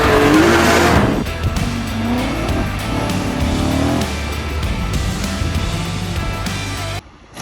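A BMW M3 drives hard, its engine roaring loud and close with tire squeal and skidding, then the sound eases to a steadier rumble before cutting off abruptly near the end.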